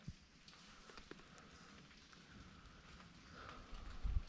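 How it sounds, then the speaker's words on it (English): Light drizzle falls along a forest section of the Appalachian Trail, faint and sparse, with scattered soft drop taps that grow into a few louder close patters near the end. "Kind of drizzling so far."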